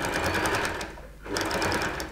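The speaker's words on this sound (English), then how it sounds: "So I've just sewn on a little bit there." Sewing machine stitching a bound seam with a bias binding foot, running steadily and close, pausing briefly in the middle, then starting up again.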